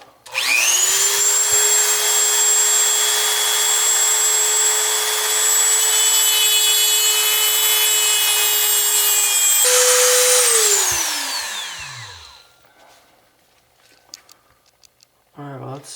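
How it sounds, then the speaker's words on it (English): A Dremel rotary tool cuts a small part of an outer door handle, giving a steady high whine for about ten seconds before it shuts off and winds down, followed by quiet handling noises. "we're going to switch to the Dremel, and I'm just going to Dremel this tiny little part out."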